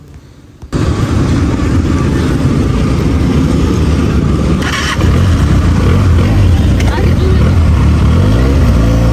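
A Benelli 302S motorcycle engine on a test ride in Butwal, Nepal, roars in loud and steady right after a quiet start, with a brief dip midway and a rising whine of revs near the end.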